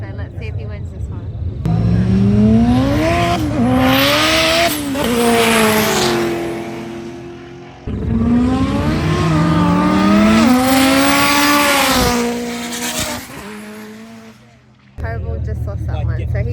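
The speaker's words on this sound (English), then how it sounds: "Up next is the Koval car again, so let's see if he wins this one" Mitsubishi Evo race cars at a Brisbane roll racing event accelerate hard in two long runs, engines roaring and climbing through gears with shifts between, loud and close, with a voice talking over the noise.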